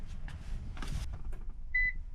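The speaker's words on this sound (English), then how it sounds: "Sorry for the beeping, that might be annoying." An electronic device in a garage gives a single short, high, clear beep near the end, after some soft rustling and handling noise.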